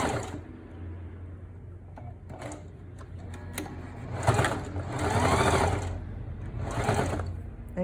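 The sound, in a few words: sewing machine stitching fabric face mask seams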